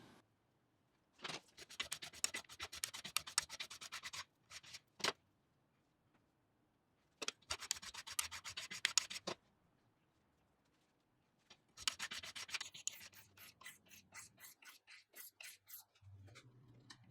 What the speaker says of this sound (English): it just needs a bit of refining, and I did that with sandpaper